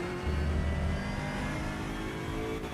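Engine of an old LMP2-type race car in RaceRoom, a steady loud droning whine holding a constant pitch with a low rumble underneath, alone without talk.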